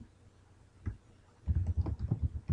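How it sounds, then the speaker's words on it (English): Keys on a computer keyboard clack as a search term is typed, with a few isolated taps followed by a quick close run of keystrokes. "Let's type in"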